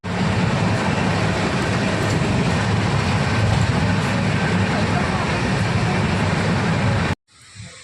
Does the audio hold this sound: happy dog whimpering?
no